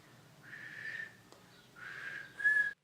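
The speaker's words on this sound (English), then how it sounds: "can you whistle?" A person whistles two sustained, steady notes with a short gap between them, the second ending in a brighter, louder tone before cutting off. No one speaks.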